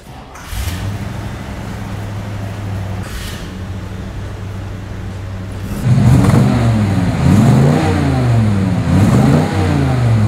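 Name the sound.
Chevelle SS396 engine starting and revving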